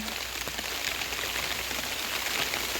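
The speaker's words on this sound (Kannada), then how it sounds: "ಮಳೆ ಜೋರಾಗಿ ಬರ್ತೈತೆ" Steady, dense downpour of heavy rain, a constant loud hiss with pattering drops throughout and no voices.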